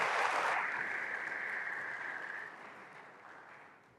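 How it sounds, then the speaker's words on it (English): An audience at a University of Nairobi awards and recognition ceremony applauds in a large hall, a steady wash of clapping that gradually tapers off over four seconds. "Another round of applause for Vice Chancellor."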